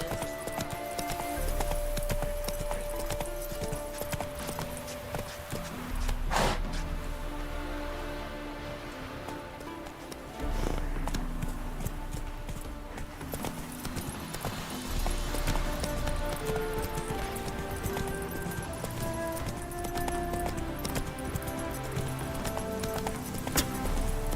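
Roach, the horse in The Witcher video game, gallops steadily with continuous rhythmic clip-clop hoofbeats at close range, over game ambience with a light rain-like wash and no talk.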